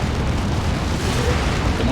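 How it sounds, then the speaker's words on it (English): A Demolisher cannon shell explodes in the Warhammer 40K Dawn of War 2 video game, a loud, dense rumbling blast that fills the moment without letup. "Demolisher cannon. Didn't seem to hit very well there."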